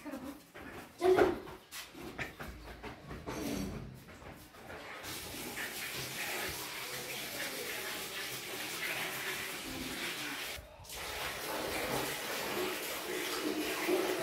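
Water running from a tap into a bucket makes a steady rushing splash lasting several seconds, briefly cutting off once, after some handling knocks and bumps at the start.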